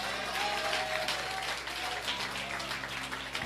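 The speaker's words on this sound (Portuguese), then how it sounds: "Você pode aplaudir a Jesus?" A church congregation applauds in a steady, dense wash of clapping that lasts throughout, with faint sustained musical tones underneath.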